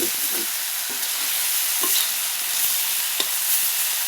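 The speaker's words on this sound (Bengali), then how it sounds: "এবারে উল্টি পাল্টি ভালো করে মাছগুলোকে আমি ভেজে নেব।" Small river fish fry loudly in a pan while being stirred and turned, a dense continuous sizzle close to the microphone with scraping stirring sounds mixed in.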